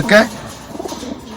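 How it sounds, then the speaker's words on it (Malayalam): A single close pigeon coo sounds at the start inside a loft of birds kept for sale, followed by faint, muffled loft noise. "ഇതൊക്കെ സെയിലിനുള്ള പ്രാവളാണ് കേട്ടോ."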